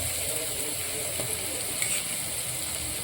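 Ground green chilies fry in a pan for chicken pulao, giving a steady, close, moderate sizzle and crackle that runs continuously with small stirring clicks throughout.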